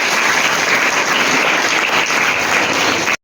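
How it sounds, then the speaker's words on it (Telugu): An audience claps together in a dense, loud, sustained round of applause that stops abruptly near the end. "ఓకే, క్లాప్స్ కొట్టండి"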